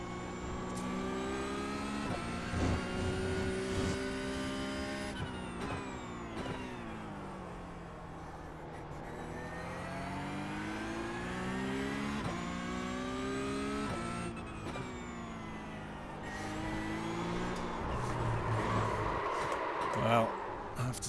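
Porsche Cup race car engine in the iRacing sim at Brands Hatch, revving up and down through repeated gear shifts, loud and close, with the driver talking over it.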